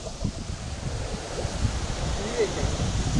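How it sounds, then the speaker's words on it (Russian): Strong autumn wind blows across the Aksai river during feeder fishing, a constant loud roaring rumble with heavy gusts buffeting the microphone throughout. "Да ветер ужасный вообще."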